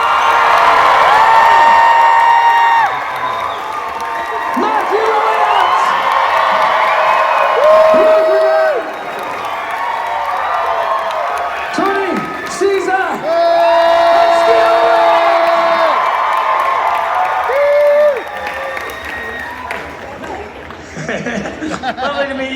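A theatre audience cheers and whoops for the cast of a horror show. The crowd noise rises and falls across the stretch, with shouts over it and a host talking in between.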